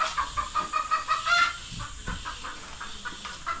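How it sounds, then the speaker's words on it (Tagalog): Hen clucking in repeated short bursts, moderately close, with other fowl and rustling around it and no talking. "Putak-putak ka na dyan?"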